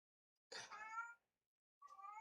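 A house cat gives two clear, close meows separated by a short pause, with no talk over them.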